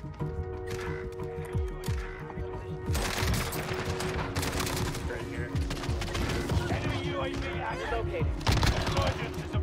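Shotgun and other gunfire in a Call of Duty Rebirth Island match, with repeated loud blasts and rattling shots across the whole stretch, mixed with game sounds and talk.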